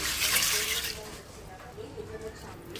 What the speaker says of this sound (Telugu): కడుక్కొని శుభ్రంగా కడిగేసి